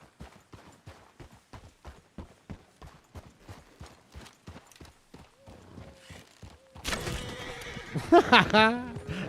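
Horse in Red Dead Redemption 2: steady rhythmic clip-clop of hooves for several seconds, then a loud, close whinny rises near the end, with a person talking over it.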